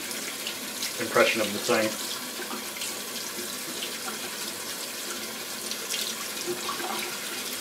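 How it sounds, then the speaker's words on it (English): A tap runs steadily while a shaving brush is rinsed under it, a soft continuous hiss of flowing water beneath a voice as he talks throughout. "I'm just going to kind of rinse it out"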